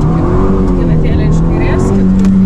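An over-4000cc rally car pulls away from the start of a press rally stage, its engine loud and close as it climbs through the revs, heard from inside the car without talk.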